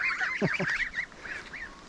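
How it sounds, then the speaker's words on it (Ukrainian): Several loud, nasal goose honks in quick succession, close by, with a brief pause before a few more calls trail off. "Бачили ті гуси."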